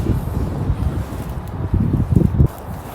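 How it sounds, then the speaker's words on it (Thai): Wind blows across a grassy hilltop in Russia, a loud low rumble of gusts buffeting the microphone, with a few stronger bursts toward the end. "ว้าอากาศดีเนาะลมพัดสวยๆ"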